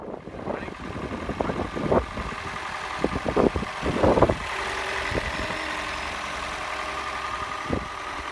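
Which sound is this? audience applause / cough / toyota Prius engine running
toyota Prius engine running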